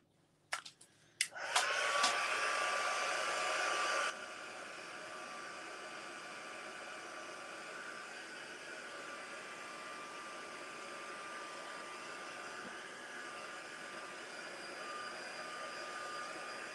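A hair dryer runs over mixed media artwork, starting with a few clicks and a loud rush of air, then dropping to a steady, quieter whir that holds for many seconds.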